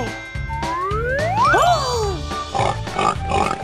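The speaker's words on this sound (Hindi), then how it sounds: "सुअर।" A cartoon pig oinks and squeals in a short burst of snorting grunts with a rising, swooping cartoon squeal in the middle, set against light playful background music.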